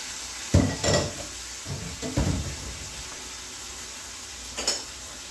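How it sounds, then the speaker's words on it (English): A pork tenderloin searing in hot oil over medium-high heat, a faint, steady sizzle broken by a few clunks of the pan and meat being moved. "got the oil in here, and you're just going to sear it."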